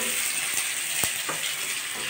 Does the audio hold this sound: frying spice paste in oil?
yes